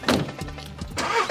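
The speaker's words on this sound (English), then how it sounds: "we are now in your car about to take a ride around the Abu Dhabi area" A car engine starts in Abu Dhabi with a short cranking burst followed by the motor catching and settling into a low, close rumble.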